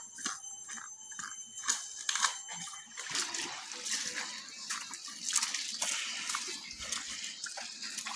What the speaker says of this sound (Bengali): 24 ঘন্টা এখানে জল বাড়ে, 12 মাস সেম টু সেম